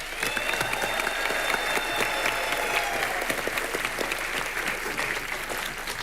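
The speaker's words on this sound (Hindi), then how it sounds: "इनके लिए जोरदार तालियां हो जाए।" Loud, sustained audience applause fills a TV comedy show studio, a dense steady clatter of many hands clapping together with no pause.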